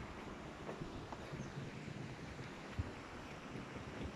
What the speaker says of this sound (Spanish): Hoy estuvo lloviendo, así que el río ha crecido.